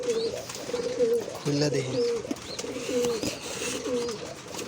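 A pair of pigeons coo repeatedly in low, rolling phrases at close range while someone speaks briefly over them, with faint rustling in the background.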